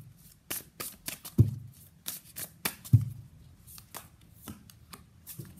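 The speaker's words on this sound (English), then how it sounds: "So let's pull some cards from universe where this connection is headed on and the outcome." Tarot cards shuffled and pulled by hand, a series of close, soft papery riffles and slaps in uneven bursts with a few sharper snaps as cards are drawn, no talk.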